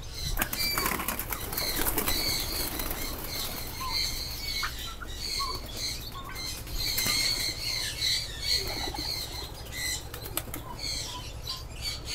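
Many wings flap and clatter as a flock of pigeons takes off, with scattered squawks and chirps over a steady background hum.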